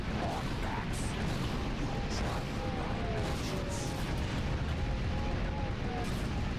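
Turret fire in Ratchet and Clank: Going Commando, a dense continuous barrage of booming blasts and explosions with a few faint zaps on top, loud and unbroken throughout.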